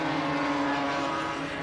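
Production 250cc motorbikes race at the Surfers Paradise circuit, a loud, steady engine drone that holds for the whole short stretch with no voices over it.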